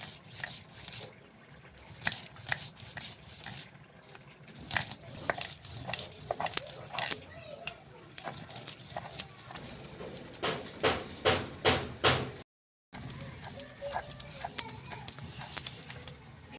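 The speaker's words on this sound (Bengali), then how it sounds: "এবার বাদামগুলো দিয়ে বেটে নেব।" Peanuts being ground by hand with salt for badam vorta, a rough rhythmic scraping and knocking of stone on stone, uneven crunchy strokes repeating steadily up close, with a brief pause near the end.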